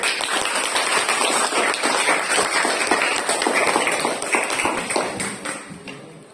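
A classroom of students clapping for a group, a dense stretch of fairly loud, fast clapping from many hands that fades slightly at the end.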